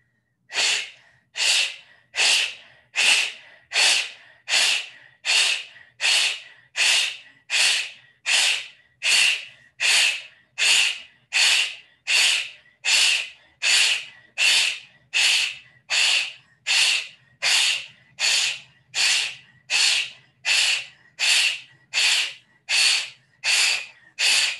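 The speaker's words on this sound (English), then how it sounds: "Okay, bhastrika, please. Take a brief inhale." Bhastrika yoga bellows breathing: a long, steady run of about thirty forceful, evenly spaced breaths through the nose, each a sharp hissing puff, close and loud with no talk between them.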